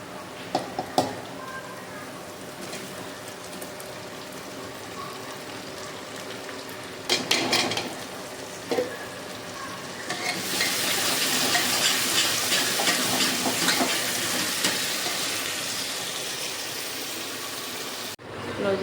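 Spices tempering in hot oil for a home-cooked tadka, a broad steady sizzle rising partway through and continuing loudly to the end, with faint kitchen clatter and a brief voice earlier.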